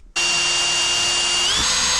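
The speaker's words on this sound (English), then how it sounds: "I'll go ahead and drill those out to 5/8, put the bobs in, the bolts in." A power drill starts abruptly and runs at a steady high whine while drilling 5/8-inch bolt holes in wood at an off-grid cabin in remote Alaska, loud and close with a slight pitch shift near the end.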